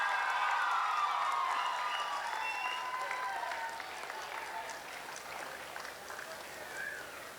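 An audience claps after an hour-long evening stage performance at a college event, the applause fairly distant and fading gradually, with faint voices and tones over it.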